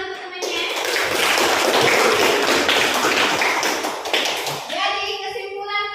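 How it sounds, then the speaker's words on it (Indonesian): A classroom of children bursts into loud, dense applause for a classmate, the clapping sustained for several seconds before tapering off into scattered claps and children's voices. "tepuk tangan untuk temannya"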